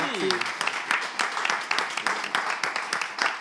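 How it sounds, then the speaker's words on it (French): A crowd applauds steadily with irregular claps, moderately loud, after a brief voice at the very start. "On va applaudir s'il vous plaît."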